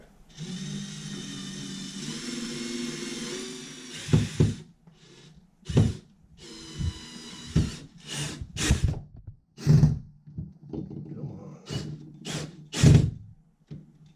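A steady mechanical whir gives way to a series of short, uneven scraping and creaking bursts, like a screw being turned by hand in spurts.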